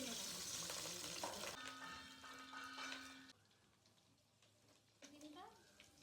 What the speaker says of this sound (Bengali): মাছের ডিমটা ভেজে নেব।